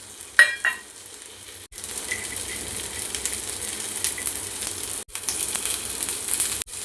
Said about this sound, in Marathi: 1 छोटा चमचा तेल याच्यात मी परत ॲड केलं आणि हे सगळे खडे मसाले तेलामध्ये परतून घ्यायचे.